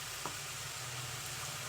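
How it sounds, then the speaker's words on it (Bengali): A spice masala with ginger and garlic fries in a pan for Bangladeshi egg korma, a continuous, even, fairly loud hiss and crackle of sizzling oil with no talking. "মশলাটা আমি একটু ভেজে নিব।"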